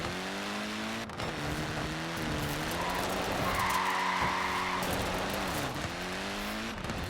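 Tyres squeal and skid on a Mini driven hard in Forza Horizon 4, a sustained engine drone with shifting pitch running steadily across the whole stretch alongside a high tyre screech, loud and close with no talking.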